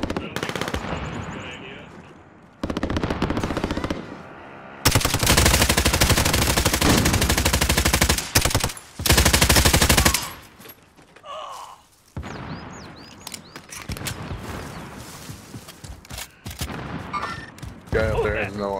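Gunfire in Call of Duty: Warzone, with loud sustained automatic bursts and scattered single shots between stretches of game noise and a voice talking.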